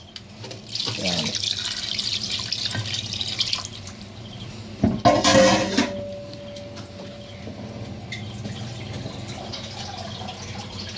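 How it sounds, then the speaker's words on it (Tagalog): Rice-washing water for humba poured into a pot, a running splash under a tap-like trickle that swells into a brief louder gush midway, then settles to faint drips, with a short spoken word at the start. "Tapos lalagay natin tubig na yung ugas bigas."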